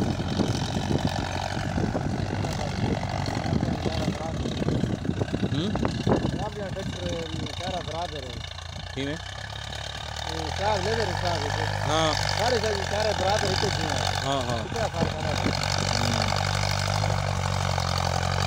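A tractor engine runs steadily while farmland is levelled with soil gathered behind it, a loud continuous droning rumble close by, with someone talking over it throughout.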